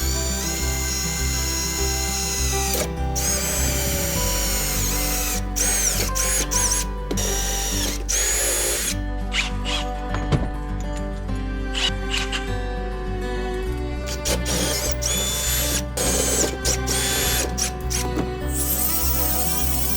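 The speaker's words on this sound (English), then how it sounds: "I'll drill two separate holes staggered like this" A power drill boring holes into steel Unistrut channel, a loud, sustained high whine with shifting pitch, broken by several short stops and restarts.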